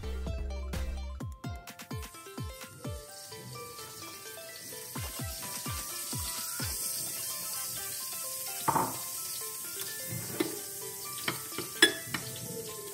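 Chopped meat frying in oil in a kazan over high heat, a soft sizzle under repeated clanks and scrapes of a utensil against the pot, steady at first, with scattered louder knocks toward the end.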